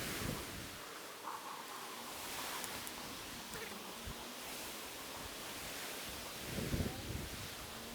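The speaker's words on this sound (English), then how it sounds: "Very windy." Strong wind buffets the microphone with a constant roaring rush and occasional gusty thumps, no voices clearly present.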